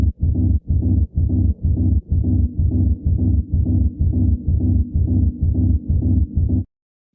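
A techno rumble bass processed with plate reverb pulses in a steady, even rhythm of deep, thick hits smeared by a mushy reverb tail, loud and alone for about six seconds before stopping abruptly.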